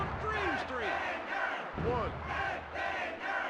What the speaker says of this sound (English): Oh, but the crowd are cheering for him, so he kicked out.